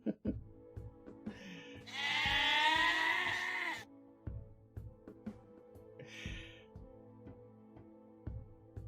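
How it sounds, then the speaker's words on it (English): Goats bleat loudly near a goat shed in one drawn-out, wavering call lasting about two seconds, amid scattered clatter and knocks, with a briefer, fainter bleat following a few seconds later. "how do we amplify the goats?"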